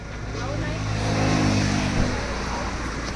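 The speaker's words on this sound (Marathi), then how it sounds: "इकडे आता बघा शिवदास परिवारची गाडी काढलेली आहे." A family car engine running close by as the vehicle is brought out, a steady low rumble that swells slightly, with voices talking nearby.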